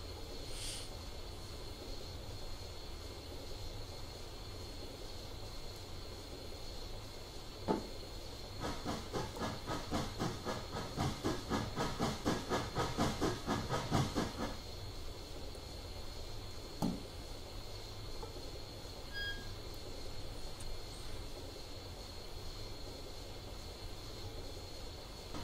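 A holiday steam locomotive in Train Simulator 2016 runs with a steady hiss and hum, building into a stretch of rapid rhythmic chuffing midway, with a couple of sharp clanks on either side. No one talks.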